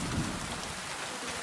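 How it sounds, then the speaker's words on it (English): Heavy, steady rain pours down in the medieval game Kingdom Come: Deliverance 2, a dense, even hiss with a low rumble underneath and no voices. "Damn rain."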